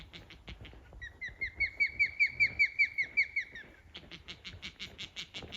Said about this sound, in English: I don't know what kind of bird that is, but making cool noises